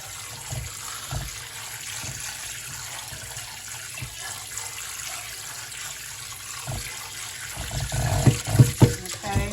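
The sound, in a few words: tap water running while washing potatoes in the sink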